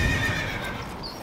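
A horse neighs loudly and close at the start, a long whinny that trails off, with hoof clip-clop underneath in a rocky mountain setting, no talk.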